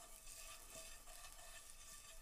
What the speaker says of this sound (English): As you can see here, it's sizzling hot, and this is what you want when you make crepes.